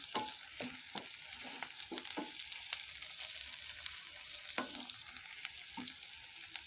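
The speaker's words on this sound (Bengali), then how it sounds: "পেঁয়াজটা ভাজা ভাজা হোক" Onions fry in mustard oil in a home kitchen pan, a steady close sizzle punctuated by repeated scraping stirs of a spatula at an irregular rhythm.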